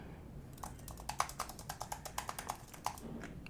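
Typing on a Bluetooth keyboard paired with a Samsung Galaxy Tab S11 Ultra: a steady run of light, close key clicks at an even pace over a faint background hiss, with no talking.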